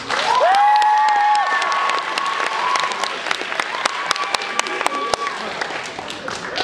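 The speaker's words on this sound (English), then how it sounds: "So we're gonna vote by clap." An audience at a benefit show rap battle applauds to vote for a team, dense sustained clapping with scattered cheers and whistles, while a voice talks over it.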